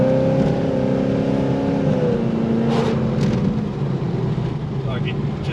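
Car engine given a little throttle, a steady loud mechanical drone that holds its pitch, then settles a touch lower, with a person talking over it throughout.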